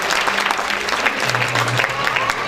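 An audience claps at a science olympiad prize distribution, a dense crowd applause heard fairly loud across the whole clip, with a voice speaking over it.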